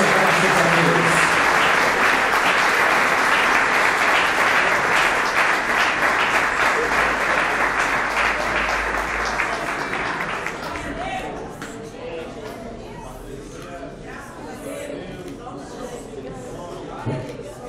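A church congregation at a consecration service for church workers applauds loudly and continuously for about ten seconds, then the clapping thins and fades to scattered claps and murmuring.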